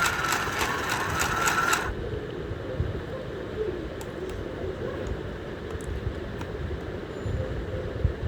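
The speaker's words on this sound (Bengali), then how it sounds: "দিকে আস্তে আস্তে করে আমি সেলাই করে নিচ্ছি," A sewing machine stitches a round dress in a brief close burst of rapid whirring that stops after about two seconds, leaving a low background rumble.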